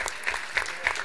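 Metropolitan council members applaud a departing colleague in a chamber, a short spell of steady, close clapping with rhythmic sharp claps standing out.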